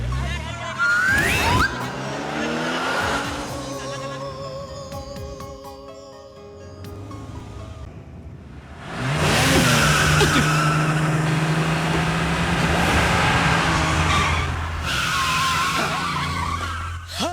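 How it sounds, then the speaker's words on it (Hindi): A car brakes hard with tires squealing in a loud skid, a sharp screech near the start followed by a longer squealing, rumbling stretch, with voices talking over parts of it. "तुमने टाइम पे ब्रेक मार दिया वरना एक्सीडेंट हो जाता"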